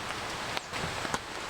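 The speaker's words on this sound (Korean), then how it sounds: "요즘에는 맨날 나갈 때마다 비가 오는 것 같아요." Light rain patters on a tent shelter at a forest campsite, a soft steady hiss with a few sharper drops striking the fabric.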